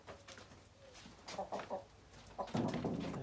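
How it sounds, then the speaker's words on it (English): Chickens cluck nearby in a garage workspace during an Rx7 13B rotary engine rebuild, several short soft clucks in bursts, moderately faint against room noise. "Chicken."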